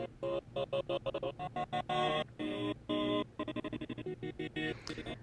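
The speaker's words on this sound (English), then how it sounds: "the same sequence, but chopped up very, very rhythmically, and it sounds like this." A chord sequence from a music production, chopped into short rhythmic bursts, plays as tonal stabs of varying lengths starting and stopping in a syncopated pattern, moderately quiet with no talking.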